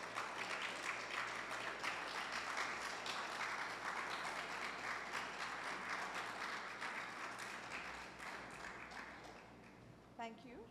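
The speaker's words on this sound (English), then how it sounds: "please give a loud round of applause for Professor" An audience at an education and economic development talk gives a sustained round of applause welcoming a professor, dense clapping that slowly fades near the end as a voice begins speaking.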